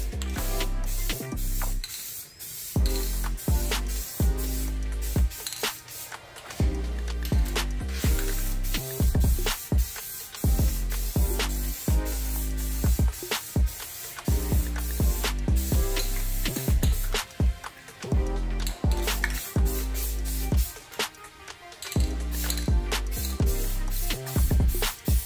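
An aerosol spray paint can hisses almost continuously while light splotchy layers go onto a mailbox to mimic a graffiti wall, with a few brief pauses, close and loud.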